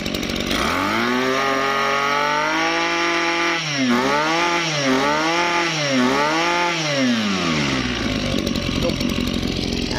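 A used Japanese-market Robin small engine runs steadily and loud, its pitch rising and falling in several quick revving waves midway before settling back to a steady drone.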